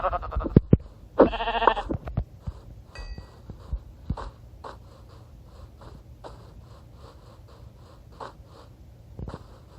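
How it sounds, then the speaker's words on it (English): White sheep bleat in Minecraft Bedrock Edition, a few close, distinct calls at the start followed by scattered soft footsteps and game noises. "we're going after the white sheep because they're the most plentiful"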